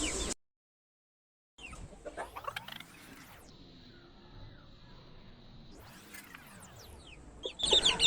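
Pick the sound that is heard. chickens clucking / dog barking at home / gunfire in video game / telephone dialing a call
chickens clucking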